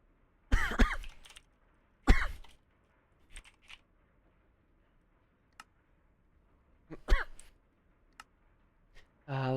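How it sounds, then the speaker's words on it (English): A few small baby-like coughs come in short, scattered bursts against near silence, with faint clicks and soft throat noises between them. "Little baby coughs, they're killing me."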